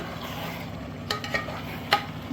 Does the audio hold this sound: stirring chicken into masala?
yes